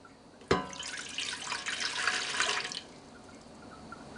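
About 1.5 cups of water poured into the pan of a Zojirushi Virtuoso breadmaker, a sudden splash then a steady gurgling pour lasting about two seconds, close and fairly quiet, with no talk.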